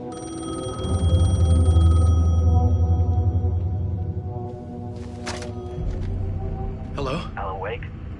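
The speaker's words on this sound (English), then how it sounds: "The phone was ringing." In the video game Alan Wake 2, a telephone rings with a loud, droning electronic tone that swells and then fades, followed by quieter sounds and a voice speaking.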